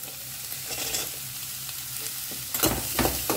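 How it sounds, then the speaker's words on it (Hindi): Chopped onions frying in a pan, browning, with a loud close sizzle and scraping stirs that swell near the end, no talk. "बढ़िया सा एक ब्राउन कलर आने तक हमें इसे फ्राई करना है।"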